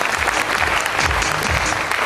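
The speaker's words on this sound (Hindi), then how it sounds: "एक बार जोरदार तालियां।" An audience at a stage event applauds loudly and steadily, a dense wash of clapping that fills the whole moment with no pauses.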